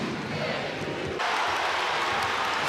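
Dense roar of a basketball arena crowd cheering at a Georgia State vs Auburn game, a constant wash of noise that swells louder partway through, with a commentator's voice faintly underneath.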